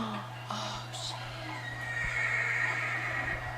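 A horse whinnies in a zombie drama episode, a faint high neigh over a constant low hum and background noise, with some indistinct voices.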